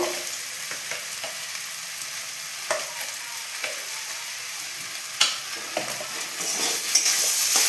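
Spices sizzle in hot oil for dalia khichdi while a spoon stirs and scrapes the pan in repeated clicks, and the frying grows a little louder toward the end.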